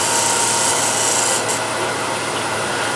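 A hand scraper cuts wood at an extreme shear angle on a lathe. It makes a steady, close, raspy rubbing that runs without a break. No voices are heard.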